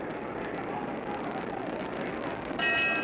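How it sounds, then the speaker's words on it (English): Boxing ring bell ending round 2 of the 1967 Muhammad Ali vs Ernie Terrell heavyweight fight, a bright ringing ding at the very end, rising over a steady roar of arena crowd noise. "There's the bell for round 2."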